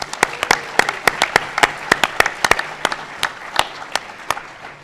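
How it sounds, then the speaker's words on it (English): An audience at a panel event applauds for the staff, a short burst of steady, crisp clapping from a moderately sized crowd, close and fairly loud. "Please join me in giving these two gentlemen a round of applause."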